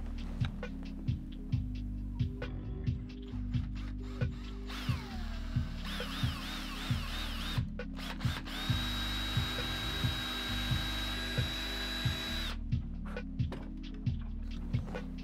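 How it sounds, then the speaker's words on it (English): A power drill whines in several bursts of varying pitch, with a steady rhythmic mechanical knocking running underneath throughout. "I'm first going to pre-drill this just so that there's less material that it has to melt through"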